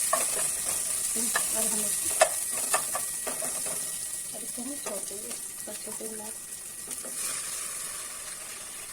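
Ghee tempering with coriander and green chili sizzling and crackling in a pan for kadhi, a steady frying hiss with stirring clinks, heard under someone speaking.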